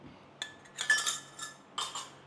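Light clinks and taps of metal and plastic parts as a coffee maker is assembled on a counter, a few soft, sparse knocks and rattles close by in otherwise quiet surroundings.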